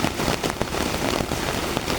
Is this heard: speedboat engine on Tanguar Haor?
no